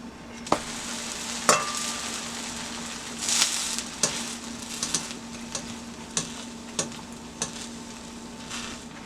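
A grilled cheese sandwich fries on a stovetop with a steady low sizzle, broken by a few sharp clicks and scrapes as it is flipped over in the pan, no voices.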